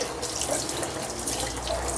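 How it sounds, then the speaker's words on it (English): Tap water pours steadily into a kitchen sink while a foam air filter is squeezed out, giving a constant close hiss and splash with no pauses. "So just squeeze the foam to bring the water out."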